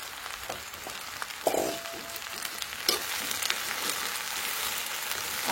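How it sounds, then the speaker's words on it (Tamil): Chopped ridge gourd fries in a pan with a steady, close crackling sizzle, with a few louder pops and the scrape of stirring. "இந்த பீக்கங்காயை அதுலேயே போடுறேன்."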